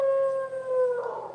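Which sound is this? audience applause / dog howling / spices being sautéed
dog howling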